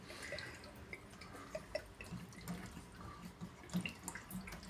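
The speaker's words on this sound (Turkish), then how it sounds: "Tesisattaki e, genleşme tankının içinde birikmiş olan suyu da boşaltmış oluyoruz." Water drains from the expansion tank of a combi boiler during servicing, a faint trickle with scattered small drips and splashes heard up close.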